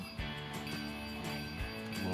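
Bell of a Lionel Thomas & Friends toy passenger train controlled over Bluetooth, heard as repeated bright metallic dings with ringing overtones, each strike followed by a brief sustain, close and steady.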